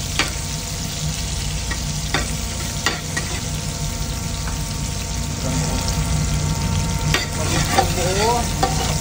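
Onion and garlic sautéing in a pan for pork menudo, a steady close sizzle with occasional scraping stirs and clicks running through the whole stretch, no talking.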